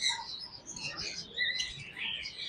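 Sharptail birds at a bird sale give off a busy mix of high chirps and tweets, overlapping in quick bursts over a steady background murmur.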